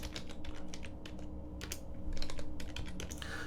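Rapid typing on a computer keyboard while entering commands in a terminal, with irregular clusters of crisp key clicks over a steady low background hum, close and moderately quiet.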